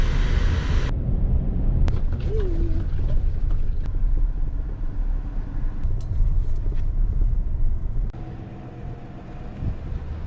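A car pulls away from the Longbow Arch trailhead near Moab, Utah. Steady low engine and road rumble is heard from inside, with a few clicks and knocks, and it turns quieter near the end.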